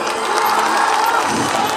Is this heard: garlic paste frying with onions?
no